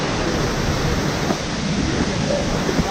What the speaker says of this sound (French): Et voici la cascade de Risco, plus de 200 mètres de haut.